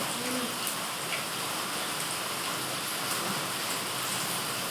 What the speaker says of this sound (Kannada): ಒಳಗೆ ಮಳೆ ಬರಕೈತಿ ಬಿಡೈತಿ